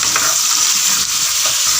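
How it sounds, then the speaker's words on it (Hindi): Half a kilo of beef hitting a pan of garlic and ginger paste on high flame, a loud, dense, continuous hiss of frying with stirring, close up and free of speech. "हाई फ्लेम पे इसको फ्राई करेंगे।"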